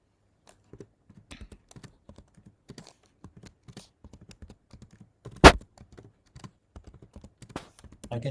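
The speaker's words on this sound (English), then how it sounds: "I can hear somebody typing" Someone types on a computer keyboard during an online lecture call, producing soft, irregular clicking keystrokes close to the microphone, with one sharper knock partway through and no voices.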